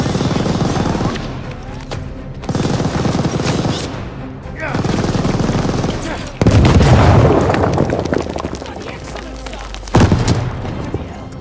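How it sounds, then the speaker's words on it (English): Loud, continuous machine-gun fire in Call of Duty Vanguard rattles over booming explosions, with shouted voices and battle noise layered throughout. "We need a grenade on that MG!"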